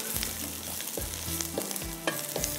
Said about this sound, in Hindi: ये प्याज हमारा थोड़ा ब्राउन हो रहा है लेकिन मैं इसमें कम ऑयल डाला जिसकी वजह से मुझे यहाँ पर इसको अच्छी तरह से चम्मच चलाना है